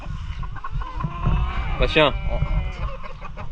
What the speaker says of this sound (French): Il n'y a pas beaucoup de coqs, mais il y a beaucoup de femelles.